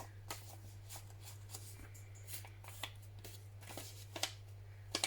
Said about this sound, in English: Cut that edge.